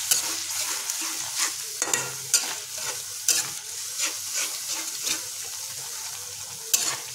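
Cashew and melon seed paste stir-fried over low flame in a wok, steady close sizzling broken by repeated scraping strokes of a spatula at an irregular rhythm, with no voices.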